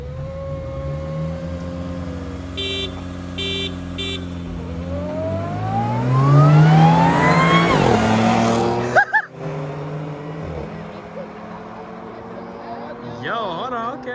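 A Honda Civic and an Audi RS4 accelerate hard in a race, a loud engine drone whose pitch climbs steadily through the gears and then cuts off abruptly before settling back into a lower rumble.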